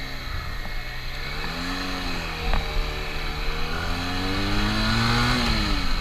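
A Benelli Tornado 302R motorcycle revs while being ridden, its engine note climbing and falling in long sweeps, loud and close over wind rush throughout.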